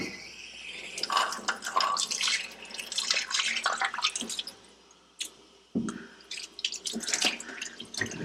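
Water sprays and splashes against a hard part in uneven bursts, rinsing off inspection dye, with dripping and a brief pause partway through.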